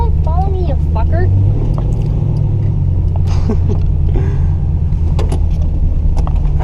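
A Chevrolet Camaro drifting on a wet street gives a steady, loud low engine rumble throughout, with voices talking over it from inside the car.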